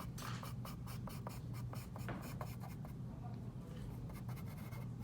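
Charcoal scrumbles across paper in quick, repeated scratchy strokes, a busy rhythmic rasping that runs close and fairly quiet over a low background hum.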